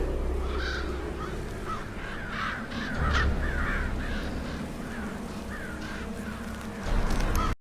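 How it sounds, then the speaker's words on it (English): Crows caw again and again in a show scene, a series of harsh calls heard over a steady low rumble of background noise, with no talking. "The crows."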